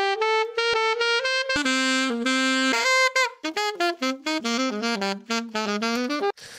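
Sampled saxophone notes in a melodic run of sustained and short tones, bright and rich in harmonics, played alone with no talking.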